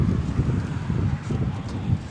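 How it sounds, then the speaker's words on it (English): Strong wind buffets the microphone at an outdoor high school baseball game in West Chicago, a continuous loud low rumble with gusty fluctuations. "Windy day here in West Chicago."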